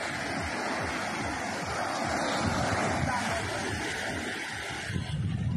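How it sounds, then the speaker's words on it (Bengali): Sea waves rolling onto the beach at Sugandha Point, Cox's Bazar, at sunset, a continuous broad wash of surf mixed with wind rumble on the microphone, loud and steady throughout. "শুধু পানির শব্দ, যেদিকে চোখ যায় শুধু"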